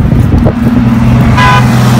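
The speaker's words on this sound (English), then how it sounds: "Who's honking it though?" A car horn sounds briefly over a steady engine and traffic rumble, a short honk near the end of the clip.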